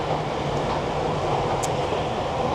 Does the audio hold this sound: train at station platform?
yes